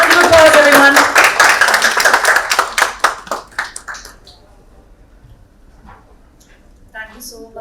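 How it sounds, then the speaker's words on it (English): Audience at a rural business roundtable in Delhi applauds after a talk, a burst of claps that thins into scattered individual claps and fades away. "Round of applause, everyone."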